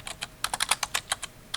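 Fingers type a terminal command on a computer keyboard, giving a quick close run of about a dozen crisp key clicks in an uneven rhythm, with no voices.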